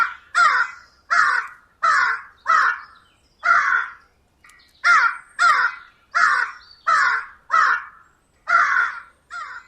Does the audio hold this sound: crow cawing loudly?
yes